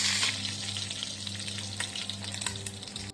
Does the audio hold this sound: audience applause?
no